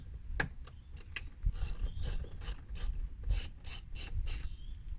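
Ratchet clicking while undoing screws in a Mercedes W203 car door, a few spaced clicks that give way to a rapid run of bright ratcheting bursts, close and clear with no talk.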